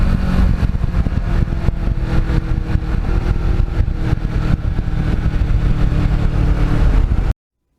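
Suzuki SV650 middleweight motorcycle ridden along scenic back roads, its engine droning steadily and close with a rough, pulsing rumble plus wind noise, then cutting off abruptly at the end.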